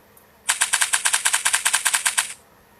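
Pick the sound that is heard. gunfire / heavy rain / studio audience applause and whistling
gunfire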